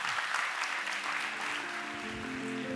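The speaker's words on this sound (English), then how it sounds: "Big round of applause for Garett Jones, everybody." An audience gives a brief round of applause after a talk on local economies and global migrants, steady clapping that is fairly faint and distant, with a few voices mixed in.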